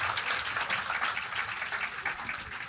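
Studio audience applause, a dense steady patter of many hands clapping at moderate volume, fairly close and without voices over it.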